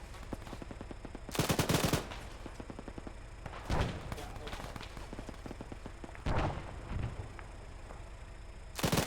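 Enemy gunfire in the military shooter game Arma Antistasi, bursts of machine-gun fire and scattered shots, some loud and close, others distant, running throughout with a low ambient rumble.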